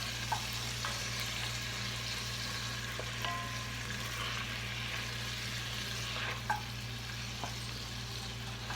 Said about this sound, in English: We're going to just melt that butter up at the bottom of a pot